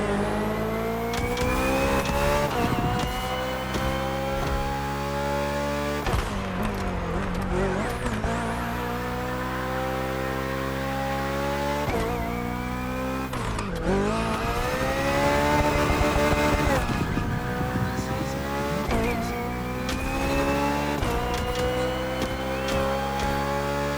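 BMW Hybrid V8 race car engine in The Crew Motorfest, a loud continuous high-revving roar climbing through gears, with sharp dips at each shift around a few points, then pulling hard again, no talk.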